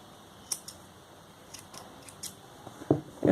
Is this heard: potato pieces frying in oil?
no